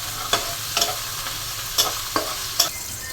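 Eggplant fries in a pan, a continuous hiss of hot oil punctuated by four evenly spaced scraping strokes of a spatula, close by, no voices.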